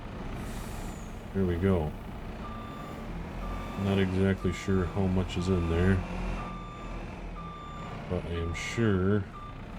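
A farm truck's reversing alarm beeps steadily at an even pace, with a low engine hum and the hiss of an air brake, while someone talks over it.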